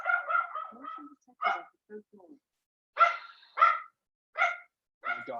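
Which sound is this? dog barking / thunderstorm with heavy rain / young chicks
dog barking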